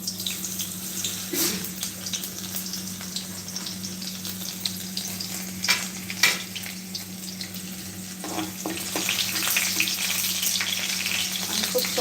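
Cumin and garlic fry in a pan for onion chutney, a steady, moderately loud sizzle with scattered crackles and occasional stirring clinks over a low constant hum.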